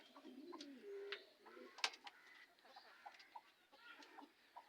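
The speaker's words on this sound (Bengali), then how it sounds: "মুরগি কিন্তু ভেতরে কুচে বসে আছে" Hens in a small rooftop coop give soft, scattered clucks and low coos, quiet and close, with one brief sharper call in the middle against an otherwise still background.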